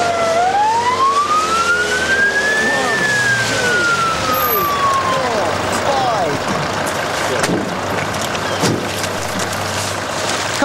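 An ambulance siren approaches, its wailing tone rising and falling loudly over steady traffic and engine rumble from a busy street, continuous throughout.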